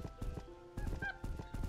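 Chicken sounds in the fantasy MMORPG RaiderZ: repeated loud squawking clucks in quick irregular bursts, close and prominent, with a brief tonal call in the middle.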